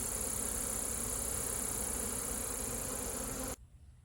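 Agitated honeybees buzzing around a hive, a dense, steady, close drone that fills the air without pause before cutting off abruptly near the end.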